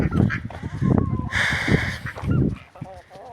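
A broody domestic goose gives several harsh, raspy honking calls at close range, with a rougher, brassier cry in the middle, mixed with other nearby fowl noises.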